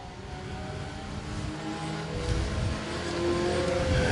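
E-Mod, Pure Stock and Dirt Demon dirt track race cars at I-35 Speedway completing a lap high on the banking, several engines droning and revving together, growing louder as the pack comes down the straight.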